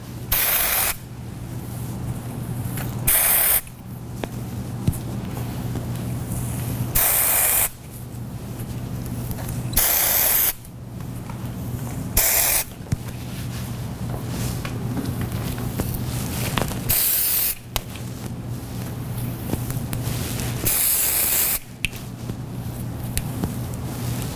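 Short bursts of dry shampoo aerosol spray hiss repeatedly at close range into hair roots, several quick sprays separated by pauses over a steady low hum.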